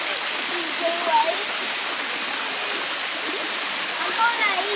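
Waterfall at Gozalandia in Puerto Rico roaring steadily and close, a continuous broadband rush of falling water with a few faint voices murmuring beneath it.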